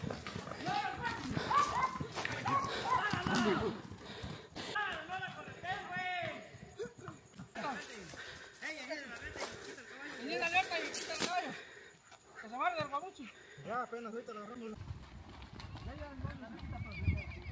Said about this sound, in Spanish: ¡Aquí con el caballo!